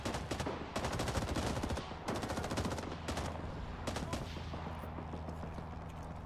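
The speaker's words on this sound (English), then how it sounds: "They're shooting RPGs at the temple." Rapid gunfire and RPG blasts at a temple in the Vietnam War shooter Rising Storm: Vietnam, dense bursts of automatic fire with heavy booms rolling in close and loud, broken by brief pauses before more volleys.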